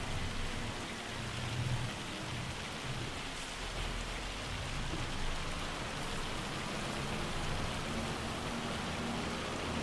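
Heavy rain and hail from a storm in the farming video game Farming Simulator 25, a steady dense hiss of precipitation with a low rumble running throughout, alone.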